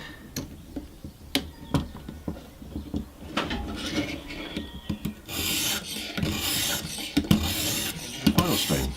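A knife is sharpened on a soaked 600 grit ViperSharp stone: rhythmic rasping strokes with light ticks at first, then denser, quicker scraping passes toward the end, heard close up.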